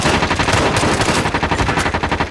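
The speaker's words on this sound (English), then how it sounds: "Taking fire!" Rapid automatic gunfire in Call of Duty: Modern Warfare, loud sustained bursts of machine-gun fire with dense repeated cracks across the whole moment.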